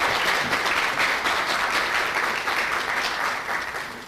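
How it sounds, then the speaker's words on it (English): An audience applauds steadily for a few seconds, a dense wash of clapping that slowly tapers off. "please give them a round of applause"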